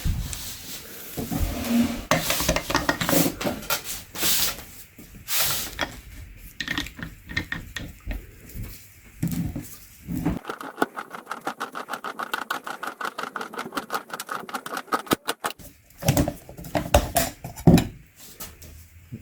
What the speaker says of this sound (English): let's open this filter up and see what it looks like